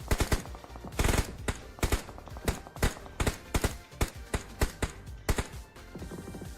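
Gunfire in the battle royale video game BGMI: loud bursts and single shots strike in an uneven, rapid rhythm across the whole stretch, some in quick runs and others spaced apart, with no talk over them.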